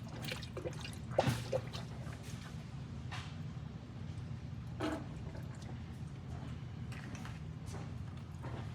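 Coolant is poured into a 1965 Mustang coupe's radiator, a quiet gurgling trickle with a few louder glugs and splashes, close and unaccompanied by talk.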